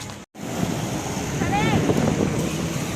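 Rough sea and wind in the rain at Girgaon Chowpatty beach, heard as a constant broad roar of surf and wind buffeting the microphone, with a brief dropout near the start and a faint, high whistle-like tone partway through.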